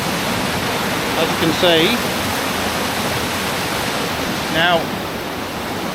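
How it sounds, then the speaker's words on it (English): Moss Force waterfall in the Lake District gives a steady, broad rushing roar that fills the whole scene, with someone talking briefly over it twice. "I've set my camera up looking up the waterfall"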